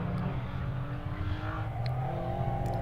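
Rallycross cars race around a club championship track, their engines roaring steadily and blending into a dense, sustained drone at moderate distance.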